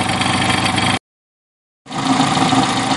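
A car engine that has been through water decarbonization and an idle relearn runs at a steady, close, dense idle, then cuts out to complete silence for about a second before resuming.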